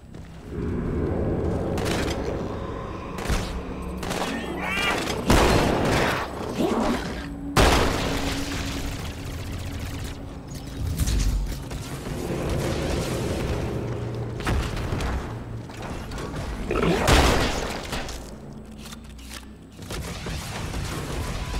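Explosions against the Flood in the video game Halo 2: repeated loud booms and blasts burst at intervals over continuous heavy combat noise.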